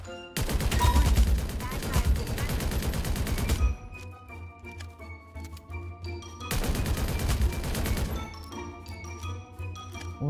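Bursts of rapid automatic gunfire in the Omega Legends battle royale game, dense and loud for several seconds, pausing under quieter game ambience, then another sustained volley near the end.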